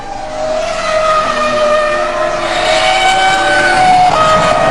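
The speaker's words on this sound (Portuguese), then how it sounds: "vai embora o motor Renault, vai embora o motor do Alonso" Fernando Alonso's Renault Formula 1 car at the 2003 French Grand Prix, engine blown, sends up a loud, steady high-pitched whine with sustained harmonic tones throughout, close and without a break, with no talk over it.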